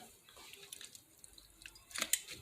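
Beef broth poured into a slow cooker over birria meat, heard as faint splashing and dripping that swells into a brief louder liquid burst near the end, close and quiet with no talking.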